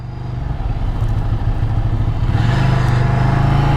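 A Ducati Scrambler's Desmodromic engine runs steadily close by, a continuous mechanical drone with a low rumbling pulse that swells slightly toward the end, with no voices.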